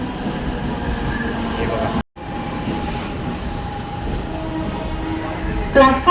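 A Mumbai local train passes at a station platform with a loud, steady rumble of wheels and carriages and a faint squeal, under brief close speech and a short cut in the middle.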